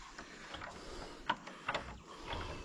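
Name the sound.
monastery gate being opened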